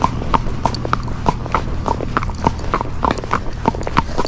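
Hooves of Zorro, a Tennessee Walking Horse, clip-clop in a steady, even rhythm, close and distinct, over a low background hum.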